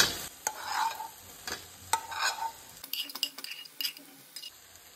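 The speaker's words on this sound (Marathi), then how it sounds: "फ्राय केल्ली सुंगटां जी आसा पळय न्हू ती हांव आतां हितून घालून घेता" Fried prawns tipped into a pan of Goan prawn biryani and stirred, with spoon scrapes and clinks against the pan over a soft sizzle, several distinct strokes in close succession.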